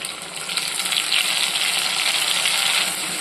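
Coarsely ground ripe tomatoes hit hot oil for a South Indian vendakkai kara kuzhambu, giving a loud, steady, dense sizzle that swells slightly and holds throughout, with no talking.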